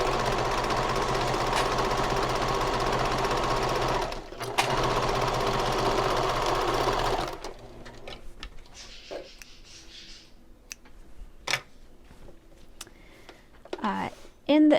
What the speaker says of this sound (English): So I will sew this with a 1/4 inch seam allowance.